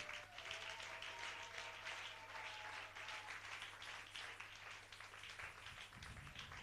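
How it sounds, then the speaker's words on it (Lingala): A church congregation clapping and applauding, a dense patter of many hands at moderate distance, steady then thinning slightly near the end, with a low electrical hum underneath. "Acclamons Jésus."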